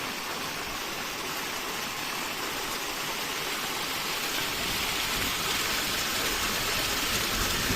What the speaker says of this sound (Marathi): फुल वॉटरफॉल कोकणातला